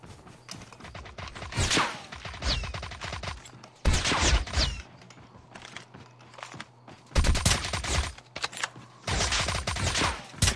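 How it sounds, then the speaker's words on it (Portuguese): Bursts of rapid gunfire from Call of Duty Mobile, several volleys separated by short pauses, with clicking mechanical sounds in between. "Eu acho que eu tô escutando um tiro."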